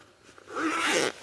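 A single quick zip on a pair of rain trousers, close and fairly quiet, rising to a brief rasping pull that lasts under a second.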